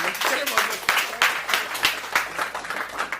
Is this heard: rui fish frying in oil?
no